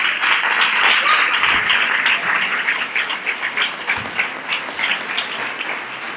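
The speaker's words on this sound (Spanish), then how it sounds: "¡Fuerte el aplauso para ella!" An audience applauds at a Three Kings parade proclamation and coronation event in Nerva, a dense wash of clapping that starts strong and gradually thins into scattered claps.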